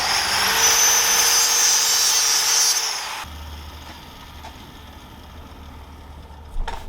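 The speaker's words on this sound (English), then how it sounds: "So I just used a cutoff wheel real quick, which worked really nice." A cutoff wheel cuts into the plastic housing of a BMW fuel pump with a loud, steady high-pitched whine for about three seconds, then stops abruptly, leaving a low hum and a faint click near the end.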